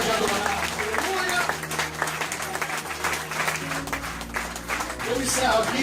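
Church congregation applauding during a communion service in Lisbon, a sustained wash of clapping with voices and music running underneath.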